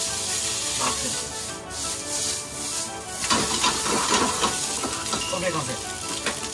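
Crab fried rice with green onion, made with spiny lobster stock, is stir-fried in a pan. It gives a constant loud sizzle with scraping and stirring strokes throughout.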